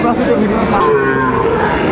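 A Sahiwal bull calf about four to five months old moos loudly at a busy cattle market in Dinajpur, one long drawn-out low call filling the moment close by over faint crowd murmur.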